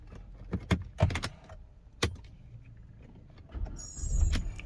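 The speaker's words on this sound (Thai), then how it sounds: "ตรวจสอบสตาร์ทนะครับ เสียบกุญแจนะครับ" Key clicks and rattles into the ignition of a Mercedes-Benz with a faulty electric steering lock, a few sharp close taps, then a brief electric whine and a low rumble as the engine turns over near the end.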